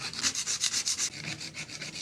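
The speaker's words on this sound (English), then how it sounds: "So doing that with the scraper should mean that it saves our sandpaper quite a lot of work" A metal scraper rasps along a cheap second-hand saw blade in quick, rhythmic back-and-forth strokes, about eight close, loud scrapes that ease slightly toward the end, with no talking.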